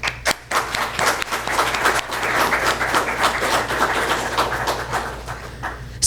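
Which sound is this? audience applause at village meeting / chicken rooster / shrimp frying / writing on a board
audience applause at village meeting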